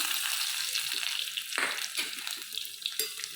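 Sliced shallot rounds sauté in a hot pan for a mango curry, giving a continuous close sizzle broken by several brief stirring scrapes.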